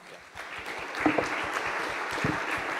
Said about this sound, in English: Join me to applaud the speakers.